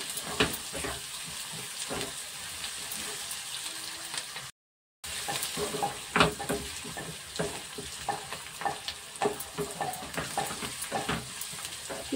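Chopped onions frying in a pan for dhaba-style egg tadka sizzle steadily while a spoon stirs and scrapes them in quick, irregular taps. The sound drops out for a brief moment partway through.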